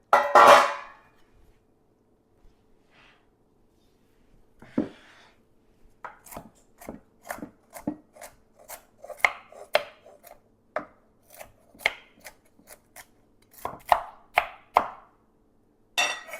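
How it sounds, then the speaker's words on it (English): Walnuts chopped with a knife on a board, starting with a few scattered knocks and then a quick run of crisp, close chops in an uneven rhythm, with no one talking. "Let's chop up some walnuts real quick."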